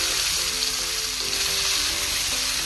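Crushed onions sizzle in hot coconut oil, a dense, continuous frying hiss heard up close and fairly loud, with no talking over it.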